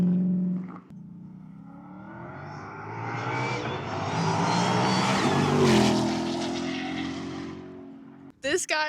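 A supercharged Ford Mustang GTD downshifts and drives past, its engine and blower whine swelling to a loud peak as it nears, then fading away, with a brief voice at the very end.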